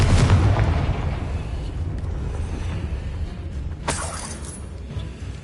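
A Confringo blasting spell in Hogwarts Legacy sets off a loud booming burst at the start that decays into a rumbling wash, followed by a sharper crackling blast near the end.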